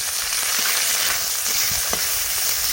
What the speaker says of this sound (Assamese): এইটো কালজিৰা দিলোঁ এইবাৰ দিম এয়া কাটি যে ৰাখিছিলোঁ পিঁয়াজ জ্বলা ৰহুন চব্জি দিছোঁ